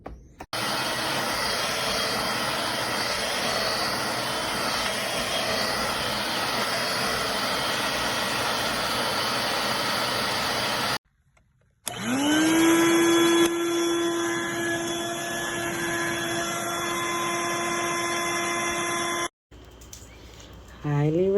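A Dirt Devil Vibe 3-in-1 corded stick vacuum runs with a loud, steady motor whine, cuts off briefly, then spins up again with a rising tone that settles into a constant hum before stopping.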